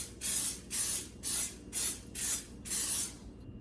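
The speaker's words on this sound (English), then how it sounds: "I'm just gonna give them a good coating of olive oil spray." Six short bursts of olive oil spray misted over peanuts before air frying, each hiss lasting about a third of a second with brief gaps between, close and fairly quiet.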